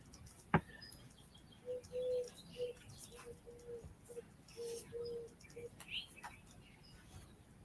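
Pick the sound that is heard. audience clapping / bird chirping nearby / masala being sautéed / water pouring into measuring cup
bird chirping nearby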